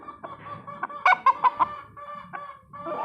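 A gray Talisay gamecock clucks in a short run of close, distinct calls, a quick burst of several notes near the middle set against quieter intermittent bird sounds.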